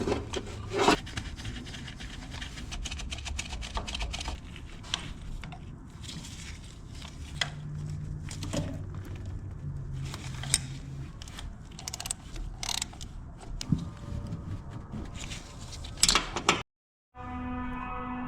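Spark plugs being reinstalled by hand in a Subaru Impreza WRX engine bay: close, irregular metallic ratcheting, rubbing and tool clicks in uneven bursts, with a brief total dropout near the end.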